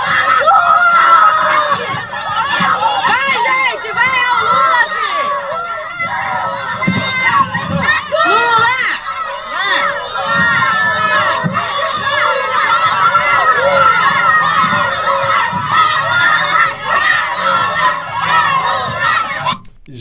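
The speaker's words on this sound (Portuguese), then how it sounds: "acabou sendo cercado por crianças que vaiaram e depois gritaram Lula" A crowd of children boos and shouts loudly throughout, a dense, continuous mass of high, overlapping voices with scattered screams and chant-like bursts, close and energetic, tailing off abruptly at the end.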